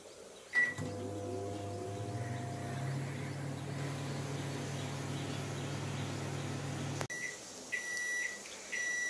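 A microwave oven hums steadily for about six seconds while boiling potatoes inside, then a click, a brief quiet and a few short electronic beeps as the cycle ends.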